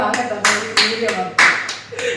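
A family claps in a few short bursts at home, the claps fairly close and uneven, with voices talking over and between them.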